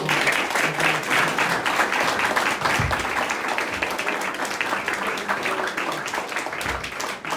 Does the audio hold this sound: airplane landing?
no